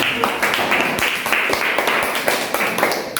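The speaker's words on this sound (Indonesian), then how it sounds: "Tepuk tangan dulu untuk semuanya" Applause in a classroom for students who have just given presentations, a steady patter of many hands clapping with sharp individual claps standing out, fairly close and loud throughout.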